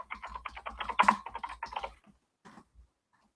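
Rapid clicking of keys on a computer keyboard, a quick burst of typing for about two seconds, then a few isolated taps before silence.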